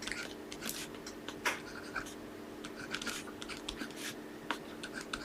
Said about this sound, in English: we're going to write down 18 entries